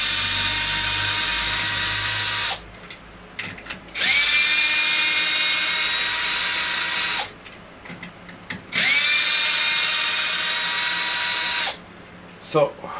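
A power tool drives out the screws holding the motor down on a Traxxas X-Maxx 8s RC truck: loud, high-pitched whirring in three long bursts separated by short pauses with faint clicks and handling.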